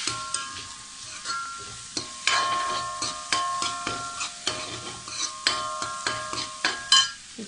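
Egg and rice stirred together in a pan for chicken fried rice, a spatula scraping and clinking in a steady series of strokes over a soft frying sizzle.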